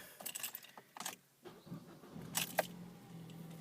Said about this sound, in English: Here, I'll start the car now.